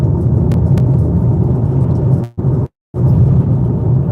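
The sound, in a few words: strange rattling noises from a car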